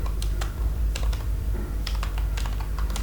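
Someone types on a computer keyboard, with irregular clusters of crisp key clicks over a low steady hum, close by and without speech.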